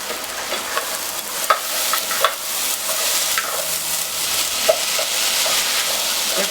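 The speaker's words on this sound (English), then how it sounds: "Give that a stir." Dal with onion and masala stirred in a hot pan, a steady sizzle broken by scraping spoon strokes and a few sharper knocks, close and continuous with no voices.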